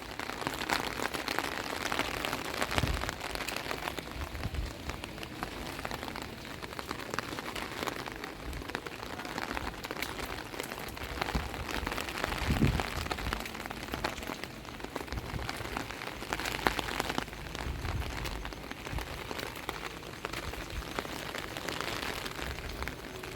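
Steady rain falling on a terrace garden's foliage and ground outdoors, a constant dense patter with scattered louder drops, no voices.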